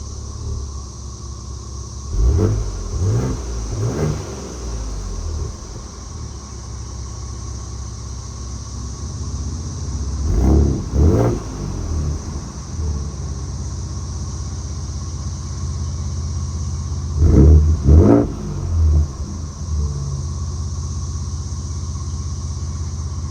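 A 2024 Ford Ranger Raptor idles with a low exhaust rumble and is revved three times in separate short bursts, each rising and falling back to a steady idle, with no talk.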